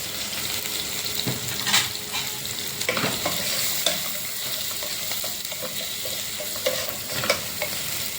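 Sliced onions and garlic sautéing in a pan, an even oily sizzle under intermittent spatula scrapes and light clinks, close and steady throughout with no talking.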